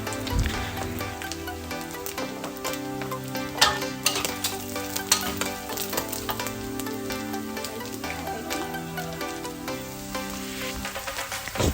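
Crispy pork belly stir-fried with chili and salt crackles loudly in a hot pan, with steady sizzling broken by sharp clinks and scrapes of a spatula stirring and tossing.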